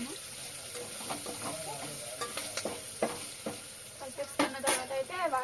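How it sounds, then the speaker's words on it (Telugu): Khichdi being stirred with salt in a pot: repeated scraping and spoon-against-pot knocks over a steady background hiss, with faint talk nearby. "ఉప్పు వేసేసుకున్న తర్వాత బాగా కలిపేసుకుంటున్నాను."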